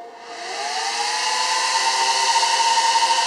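Four small 2-inch cooling fans on a fabricated mounting plate spin up together into a steady, loud whirring hum with a rising tonal whine that settles into a constant drone, close and alone without talk.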